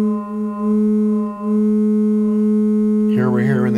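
EuroSerge ring modulator carrier signal on its own: a steady buzzy harmonic tone holding for about three seconds, then shifting into a warbling, wobbling timbre near the end, with no talking.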